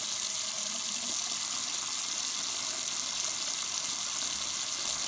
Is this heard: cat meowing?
no